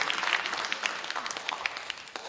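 At a concert, the audience gives a round of applause for Brother Huifeng. The clapping is soft and somewhat distant, a continuous patter of many hands with a few crisp claps rising above it.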